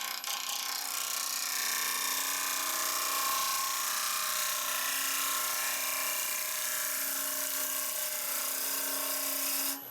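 Steady, continuous cutting hiss and whir of a lathe tool cutting olive burl wood, close and even throughout with a faint hum underneath, no talking.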